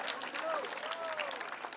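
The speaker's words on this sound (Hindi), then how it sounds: "जोरदार तालियां उनके लिए।" An audience at an outdoor community cleanliness run event claps steadily to welcome a guest doctor, producing a dense wash of applause with a voice faintly audible over it.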